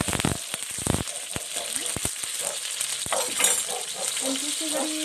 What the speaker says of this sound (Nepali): अब यो प्याजलाई मैले यहाँ फ्राई गर्छु